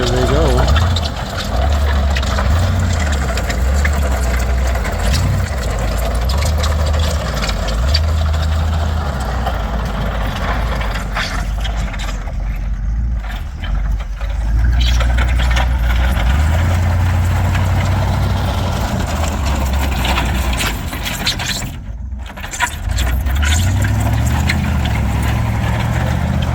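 Bombardier snow vehicle engine idling steadily nearby, a continuous low rumble that dips briefly and returns, with people talking over it outdoors.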